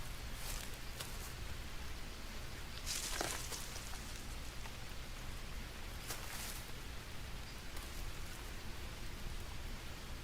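Steady heavy rain falls across the jungle in the survival game Green Hell. It forms a dense, continuous hiss with faint rumbling underneath, and there is no talk.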